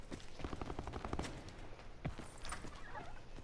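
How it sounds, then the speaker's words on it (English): Bursts of rapid gunfire from a battle-royale shooter match, a dense run of sharp reports through the first half, then scattered louder shots, heard at mid distance amid game background noise. "They're definitely shooting up there now."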